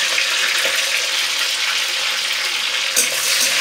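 Bay leaves and soaked raisins fry in ghee for basanti pulao, giving a steady, close sizzling hiss with a brief louder spatter near the end.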